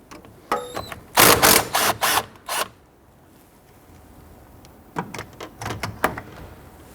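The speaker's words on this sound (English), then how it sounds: "We're going to use a 17mm socket to go ahead and loosen this." A 17mm socket on a ratchet clicks in short bursts while loosening the front engine mount bolt on a 1992-1996 Toyota Camry 2.2L four-cylinder, with two groups of rapid close ratcheting separated by a quiet pause.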